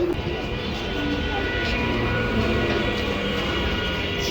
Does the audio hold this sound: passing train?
yes